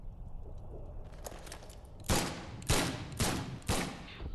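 Gunshots in The Sinking City ring out as four loud, sharp reports spaced about half a second apart, following a quieter stretch of low rumbling ambience.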